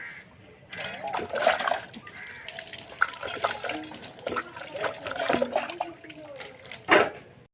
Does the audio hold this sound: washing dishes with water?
yes